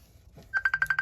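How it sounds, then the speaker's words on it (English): A mobile phone rings nearby during a paper craft session, a quick series of about six evenly spaced electronic ringtone pulses starting after a brief quiet moment, loud and clear with no talking. "That's just my phone."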